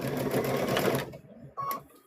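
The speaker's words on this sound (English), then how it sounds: "You're going to put your foot down, put your needle down, sew a little bit," Close up, a sewing machine stitches fabric for a stuffed bear in a loud rapid mechanical run that stops abruptly, then a short second burst of stitching follows.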